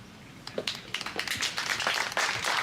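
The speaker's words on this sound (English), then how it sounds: "A round of applause for Daktari" A small audience claps for a speaker at the launch of the Donald Dima German Medical School, with scattered, uneven handclaps that build into steadier applause over a couple of seconds at moderate distance.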